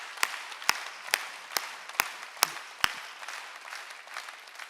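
A church congregation at a Korean Sunday worship service claps hands in a steady rhythm: about seven sharp, evenly spaced claps close together, then a fainter, looser patter trailing off.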